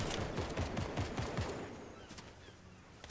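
Rapid gunfire in a shooter video game featuring sniper rifles: a quick series of repeated shots in the first second and a half, then a sustained noisy rumble of distant combat.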